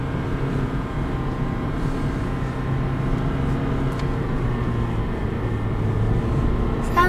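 A car engine runs steadily and loudly throughout, a constant low drone with a rising whine like a plane about to take off, heard from inside the car.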